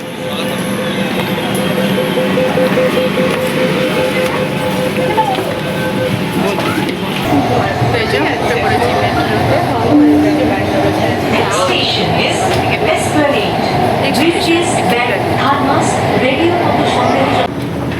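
Rider aboard a Kolkata metro train headed toward Howrah station, with a steady loud rumble of the carriage running throughout, a brief squeal, and people talking over the noise.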